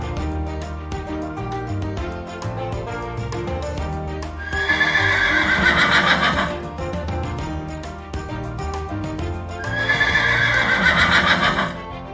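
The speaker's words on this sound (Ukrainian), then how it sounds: "це кінь. Він говорить іго-го." A horse whinnies loudly twice, each shrill neigh lasting a couple of seconds, over steady music with clopping hooves.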